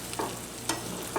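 Eggs are folded gently in a pan over medium-low heat, three soft spatula strokes sliding through them over a faint, steady sizzle, quiet and close.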